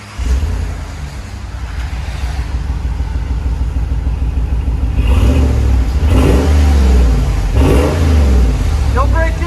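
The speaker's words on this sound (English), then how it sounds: "There's the DYNOMAX turbo muffler. It's a performance exhaust." A 2020 RAM 1500 5.7L HEMI V8 pickup with a Dynomax turbo performance muffler idles with a throaty rumble, then revs up several times in loud, close bursts before settling back.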